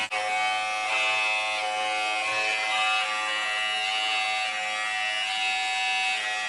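An electric hair trimmer hums steadily and close, a constant buzzing whine that holds for several seconds without stopping.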